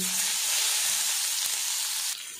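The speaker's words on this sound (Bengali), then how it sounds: "এবার পেঁয়াজটা আমি লাল লাল করে ভেজে নেব" Chopped onion frying in hot oil with cumin seeds, a steady, loud sizzle filling the whole stretch, close by and alone with no talk, easing slightly near the end.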